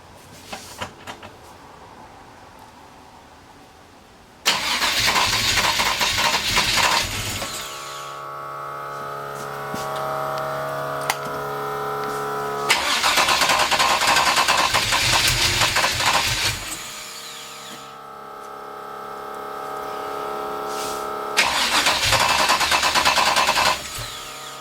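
A 383 stroker engine with a gear drive runs in a car, alternating between loud, broad roaring bursts and a steadier, tonal idle with a noisy mechanical whir, close and continuous.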